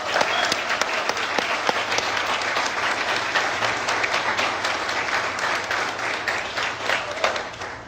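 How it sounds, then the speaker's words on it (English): Audience clapping for Gary and Herb at a talk on Black wealth and success, a long steady round of applause from a sizable crowd, with sharp individual claps standing out. "Can we clap for these guys"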